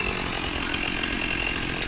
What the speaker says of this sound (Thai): ทำการเลื่อยยนต์มันปลายนะครับ